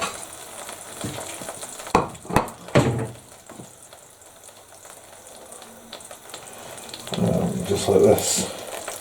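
A cheesy tortilla quesadilla cooks in a pan over low heat, giving a soft steady sizzle with a few sharp clatters near the start and a louder frying swell toward the end, while a person speaks briefly.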